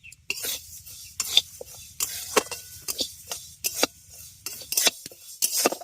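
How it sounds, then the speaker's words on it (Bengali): Mung dal dry-roasting in a dry pan, stirred with a utensil that scrapes and clinks against the metal in irregular close strokes, with grains rattling between them and no talk. "শুকনো কড়াই আমি মুগ ডালটাকে ভেজে নিচ্ছি"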